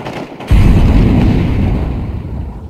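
A single loud, close gunshot blast in the video game Counter-Strike 2, with a deep booming body that rings out and fades slowly over two seconds.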